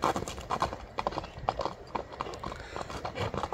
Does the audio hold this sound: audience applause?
no